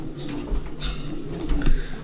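Pigeons coo in a breeding loft, several soft, throaty calls repeating close by over faint background chirps.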